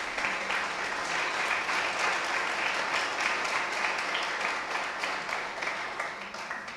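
A church congregation claps together in a sustained, even round of applause, dense and steady throughout, heard from within the hall at moderate level with no voices over it.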